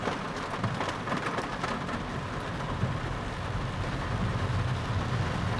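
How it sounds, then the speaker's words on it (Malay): Heavy rain pounding a Proton S70 during a drive, a dense continuous patter on the car body mixed with low road and engine rumble, steady and loud throughout with no talking. "Sekarang hujan masih lebat lagi ya."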